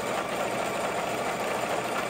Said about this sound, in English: Okay, locking in my stitch.